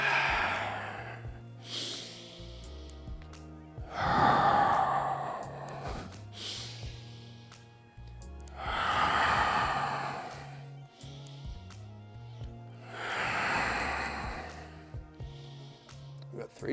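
Slow, deep breathing during a cat-camel stretch in a mobility routine, four long audible breaths at even intervals, close and fairly quiet, with a soft background hum.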